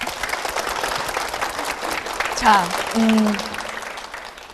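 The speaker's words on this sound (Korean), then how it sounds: "여러분 박수" A church audience applauds throughout, a steady crowd clap running beneath a voice, with a few short bright tonal sounds breaking through near the middle.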